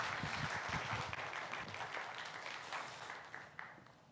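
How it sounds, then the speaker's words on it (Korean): A church youth congregation applauds to welcome a visiting pastor, a dense burst of clapping that is loud at first and gradually thins and fades. "우리 박수로 우리 목사님 환영하도록 하겠습니다."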